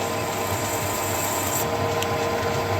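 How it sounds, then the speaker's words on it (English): A lathe chamfers a handmade steering stem for a custom Harley Dyna chopper, with a steady machine hum and a continuous scraping cut close by, unchanging for a few seconds. "We'll give it a good chamfer."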